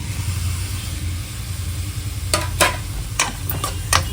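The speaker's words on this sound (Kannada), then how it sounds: "ಟೊಮೊಟೊ ಫುಲ್ ಸಾಫ್ಟ್ ಆಗಬೇಕು, ಅಲ್ಲಿ ತನಕ ಫ್ರೈ ಮಾಡಬೇಕು. ಹೈ ಫ್ಲೇಮ್ ಇಟ್ಟಿದ್ದೀನಿ." Chopped tomatoes and half a tablespoon of garam masala fry over a high flame, with a steady low sizzle and a few sharp scraping strokes of a spoon toward the end.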